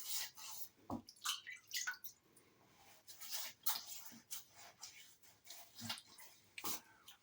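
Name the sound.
water wetting face before a shave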